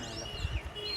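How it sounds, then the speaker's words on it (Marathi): Thin, high bird chirps and whistles in the distance over a soft background hum, brief and faint, near flowing water under a bridge. "पक्ष्यांचा किलबिलाट."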